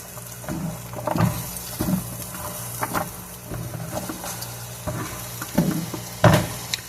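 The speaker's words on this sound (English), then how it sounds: "we're just going to saute up some onions for Glenn's" Onions sautéing in a pan for a smoked brat sandwich, with a steady close sizzle broken by repeated scraping stirs of the spatula, no talking.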